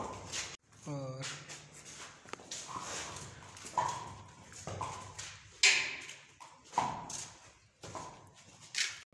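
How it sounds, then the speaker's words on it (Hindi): Horses on a riding ground, hooves clip-clopping in irregular, scattered steps at moderate distance, with a dog barking and people talking intermittently throughout. "ये सामने सारे घोड़े हैं, यहाँ पे सब घोड़े होंगे।"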